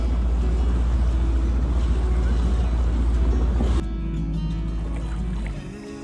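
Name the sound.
dinghy outboard motor running rough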